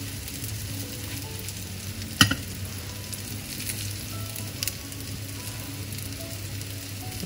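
Homemade chicken nuggets fry in a pan with a continuous soft sizzle and crackle. One sharp clatter of a utensil stands out partway through, followed by a few lighter taps.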